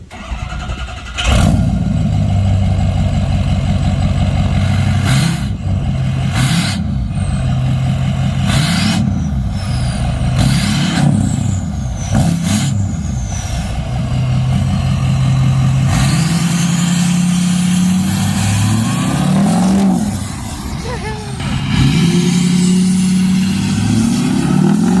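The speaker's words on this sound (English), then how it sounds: "start it up, rev it up a little bit with it plugged in and then unplugged" A 6.0 PowerStroke diesel pickup cranks and fires up, then idles with a loud, close clatter broken by several short throttle blips that rise and fall.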